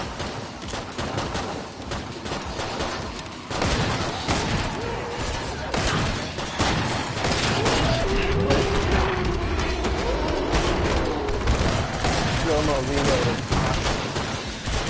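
Gunfire in the co-op shooter Killing Floor 2 on PS4, a dense, continuous clatter of shots and booms running throughout, mixed with game effects and voices talking over it.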